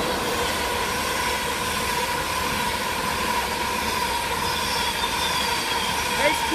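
A Virgin Trains East Coast express from London Kings Cross to Edinburgh passes straight through Doncaster station, a loud sustained rush of wheels and rails with faint squealing tones, heard up close.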